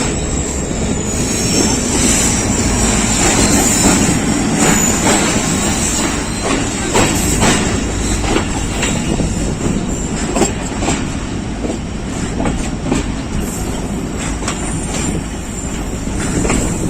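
An EU40 locomotive hauling hopper wagons rolls slowly past, a loud, steady rumble of wheels and cars with repeated clacks over the joints and faint squeals, continuous and close throughout.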